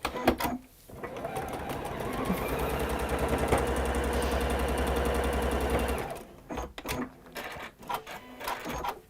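Sewing machine stitching a seam in a continuous fast steady whirr for several seconds, loud and close, framed by short start-and-stop bursts and handling clatter, with a voice talking briefly.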